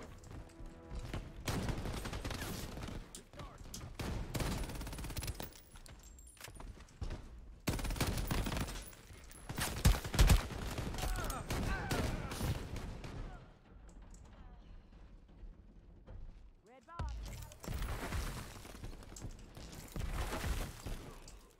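Gunfire from shooting practice in the video game Shatterline comes in dense bursts of rapid automatic shots, loud and close, broken by brief pauses and trailing off before another volley, with occasional voices.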